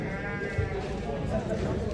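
At a busy livestock market, sheep bleat close by in drawn-out cries while someone talks over them and crowd noise fills the background.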